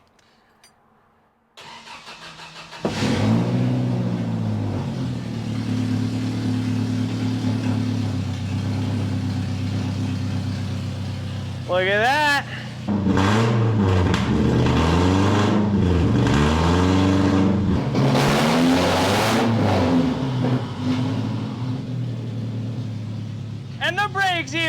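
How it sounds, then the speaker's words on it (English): A Toyota Corolla project car's engine fires up and runs steadily, revving up and down for about twenty seconds while the tires spin; a person speaks briefly over the engine noise. "make sure that these tires spin with the engine"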